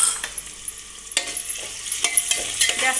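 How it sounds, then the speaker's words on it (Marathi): Finely chopped tomatoes sautéing in a pan for masala khichdi, a soft steady sizzle with scattered stirring scrapes and light clinks, close and alone without any talk. "तर आता त्यात आपण हे बारीक चिरलेले टोमॅटो घालून घेऊयात आणि तोही थोडा 2 मिनटं परतवून घेऊ"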